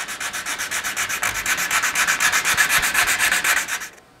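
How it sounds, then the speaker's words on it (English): A woodworking rasp shapes a curved wooden profile with loud, close, rhythmic rasping strokes, about eight per second, that run steadily for four seconds and then stop. "Once I've gotten this profile to the point where I like it using the rasp"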